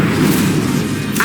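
An Incendio fire spell is cast in Hogwarts Legacy, a loud, close, rumbling whoosh of flame that holds steady through the brief moment.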